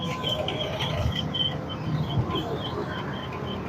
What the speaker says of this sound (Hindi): गाड़ी स्टार्ट खड़ी है, आवाज टक टक किस चीज की है?